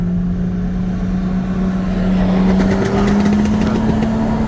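A BMW M440i and a Kia Stinger GT, both with bolt-on upgrades, accelerate side by side in a roll race from 40 mph, a steady near engine drone with a rising tone, the Kia running 100-octane fuel.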